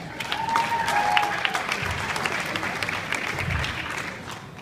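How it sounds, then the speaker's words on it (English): Wedding guests applaud for a toast with moderate, even clapping from a room full of people, tapering off slightly near the end. "Let's get a round of applause."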